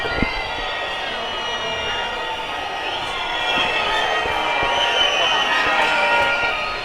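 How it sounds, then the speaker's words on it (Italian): A large crowd of Napoli fans outside the Maradona stadium roars with whistles and chants as the Udinese team bus arrives, a continuous loud crowd din with shrill whistling that swells midway. "tanti i cori di disprezzo e fischi"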